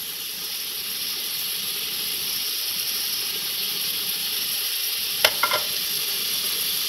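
Beef sautéing with yogurt in a pan gives a steady, even sizzle and hiss throughout, close and moderately loud, with a couple of brief clinks near the end.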